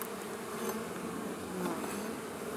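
Dense, steady buzzing of many bees swarming close by, a continuous droning hum with no voices over it.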